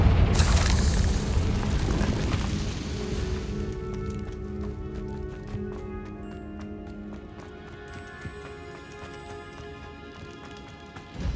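In Hogwarts Legacy, a Confringo fire spell explodes with a loud deep boom and heavy rumbling blast up front, then fades into a long decaying crackle and echoing tail.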